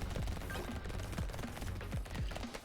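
Miniguns and SMGs fire in the game Brotato as a fast, steady stream of small popping shots, quick and rhythmic, fairly quiet and continuous.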